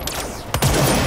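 A loud burst of rapid gunfire erupts in the game Control after a quieter, rumbling stretch, dense and close.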